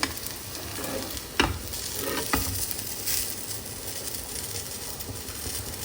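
A tomato omelette sizzles steadily in a hot pan, a continuous broadband frying hiss with a few sharp scraping or stirring knocks from a utensil near the start.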